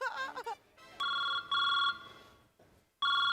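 Phone ringtone sounding in three electronic bursts with pauses between, clear and fairly close, after a brief stretch of voices at the start.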